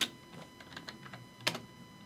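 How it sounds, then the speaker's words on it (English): A computer keyboard is typed on up close in a short irregular burst of soft key clicks, ending with one sharper keystroke. "Okay, let's go to news. We'll type in scene."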